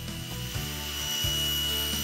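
A table saw with a custom sled cutting a miter through a small piece of molding, a steady close whine of the spinning blade, its pitch dipping briefly as the wood passes through the cut, with no talk.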